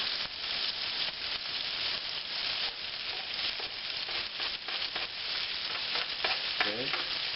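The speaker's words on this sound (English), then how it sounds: "next we're going to add in our onion" Chopped onion sizzles in a hot stir-fry pan, a continuous close hiss with crackles and scraping stirs, no voices over it.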